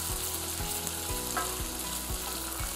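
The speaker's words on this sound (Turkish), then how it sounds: "Şimdi soğanımızı ekliyoruz. Onu da güzelce kavuruyoruz bu şekilde." Chopped onions with pine nuts sizzle in olive oil in a pan, a steady close frying hiss broken by regular soft knocks of stirring, with no talking.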